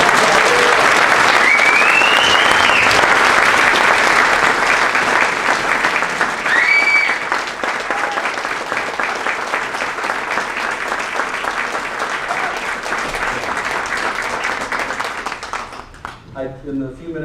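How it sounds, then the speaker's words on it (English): A keynote audience breaks into loud, sustained applause, with a couple of whistles rising above the dense clapping early on. The clapping thins gradually and fades out near the end. "You may applaud if you'd like."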